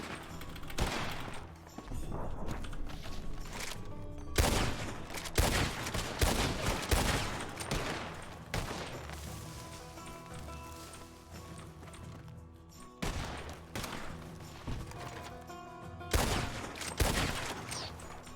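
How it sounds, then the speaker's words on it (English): A shootout in the video game RedM, with bursts of rapid gunfire, some distant and some close, recurring in several clusters over hoof clip-clop and ambient game sound. "There's all these people shooting at each other."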